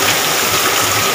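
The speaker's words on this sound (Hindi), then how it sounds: "बारिश हो गया खतरनाक" Heavy first rain of the season falling outdoors, a dense, unbroken roaring wash of noise, loud and close, with no voices for a brief moment.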